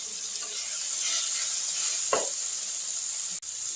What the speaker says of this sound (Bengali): ঢাকাটা একবার খুলে নিচ্ছি, একটু ভাজাগুলো নেড়ে নিচ্ছি।